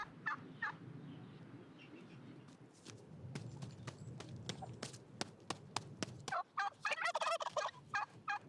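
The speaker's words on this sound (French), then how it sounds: "Alors que tous les oiseaux se régalent" Poultry and other farm birds feeding in a rural Azerbaijani village, with repeated turkey-like gobbling calls and clucks close by, mixed with scattered clip-clop steps and rustling, busier bursts of calling toward the end.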